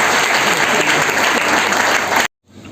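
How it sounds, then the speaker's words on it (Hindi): An audience at a motivational team-building talk breaks into loud, sustained applause, a thick, even roar of many hands clapping that cuts off abruptly. "तो एक बार जोरदार तालियां।"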